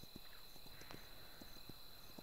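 A horse's hooves clip-clop at a steady walking pace in the Kingdom Two Crowns video game, with soft, evenly spaced hoof falls set against a constant faint background hum.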